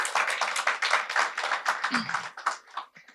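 An audience at a Valentine's Day poetry night claps briskly in a close, crowded patter that holds steady, briefly drops, and tapers away, with a voice slipping in under it.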